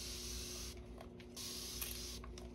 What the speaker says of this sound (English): I'm going to spray this with alcohol.